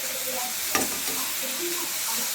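Carrot halwa cooked with milk is stirred in a pan, a soft steady bubbling sizzle with a single brief scrape of the spoon near the start, close and fairly quiet, no voices.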